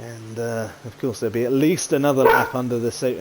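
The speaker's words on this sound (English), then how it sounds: "Apologies there, that's my dog." A dog barks repeatedly close by, sharp yaps cutting through someone commentating on an F1 23 league race.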